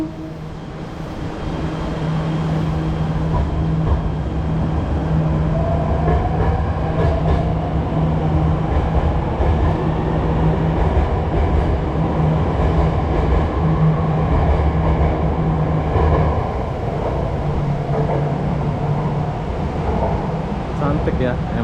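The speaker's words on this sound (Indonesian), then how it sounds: "buat kalian yang mau naik MRT Jakarta ini, silakan naik ya" Inside a moving driverless Jakarta MRT train, a steady loud rumble and hum carry on throughout the ride, with faint voices in the cabin.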